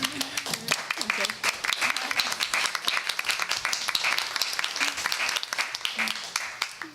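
Clapping for Measure J volunteers at a school board meeting, crisp close hand claps ringing out over a wider round of applause, with voices talking underneath throughout.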